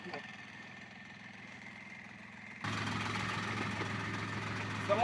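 A boat engine on the sea off Thailand rises abruptly from quieter ambience into a loud, steady low drone that holds to the end.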